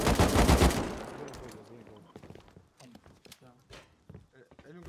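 Gunfire in Rust: a loud burst of rapid shots opens, then gives way to scattered sharp single cracks and thuds, with voices talking between them.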